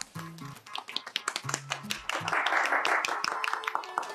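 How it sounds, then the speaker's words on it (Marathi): A handful of hand claps ring out in an uneven, scattered burst, with a brief voice at the start and a rising wash of indoor noise toward the end. "अरे टाळ्या टाळ्या टाळ्या"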